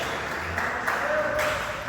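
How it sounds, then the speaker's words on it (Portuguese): A church congregation claps joyfully during a worship service, a short burst of steady clapping with a faint tone and background voices. "Palmas bem alegre"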